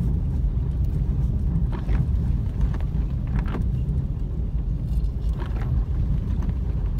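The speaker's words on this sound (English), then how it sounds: "You guys hear that? That's my tires rubbing." A steady low rumble of a moving car on a snowy road in Big Bear, with a few faint scraping, rubbing sounds from the tires rubbing against packed ice over the road noise.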